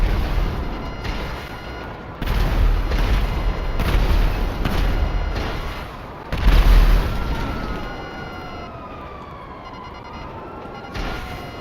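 Missile explosions in GTA 5 Online arrive as a series of heavy, booming blasts and rumbling impacts, with a siren-like wail rising and falling near the end, loud and close, with no talking.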